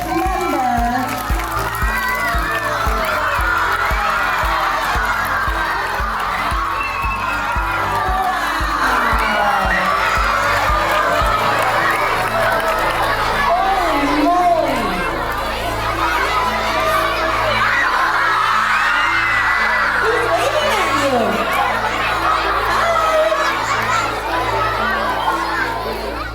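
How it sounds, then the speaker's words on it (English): Crowd of elementary schoolchildren shouting and cheering loudly at a school-wide assembly with Denver Police, a dense continuous roar of young voices rising and falling for the whole stretch, with some clapping mixed in. "Let's give a round of applause to the Denver Police's newest member."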